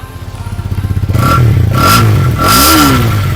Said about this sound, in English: Let's just hear how this bike sounds like.